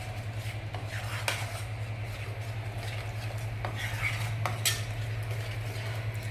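Ground red tomato going into a pan and being stirred, with soft scraping and occasional sharp clinks of a utensil against metal over a low steady hum; fairly quiet and close.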